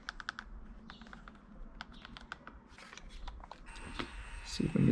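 Keys on a label maker are pressed in a home garage during car work, producing faint, scattered clicks in short runs, with a light mechanical whir near the end.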